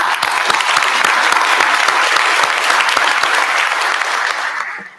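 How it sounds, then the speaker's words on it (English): A large plenary audience at the IETF 106 meeting applauds host Nokia: dense, steady clapping from many hands that holds strong for nearly five seconds, then tapers off at the end. "Could I please ask you all to give them a round of applause?"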